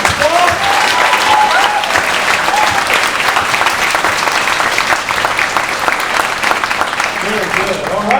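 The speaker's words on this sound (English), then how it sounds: "Give them another round of applause." Loud, close audience applause at a swing dance showcase after kids' electric swing performance, dense clapping sustained throughout, with some cheering voices and a few shouts mixed in.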